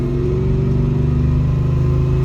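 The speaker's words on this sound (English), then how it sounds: "I'm going to put it in second gear and just kind of let it work its way up the red line" A car engine in second gear revs steadily and loudly toward the red line, a continuous droning run of rising RPM heard up close with no talk.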